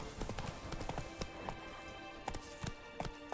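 Roach the horse gallops in The Witcher 3, hooves clip-clopping in a quick, steady rhythm at moderate distance, with no talk over it.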